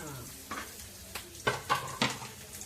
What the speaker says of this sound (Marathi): पहिल्यांदा मी लसूण टाकून घेते कांदा कढीपत्ता आणि कोथिंबीर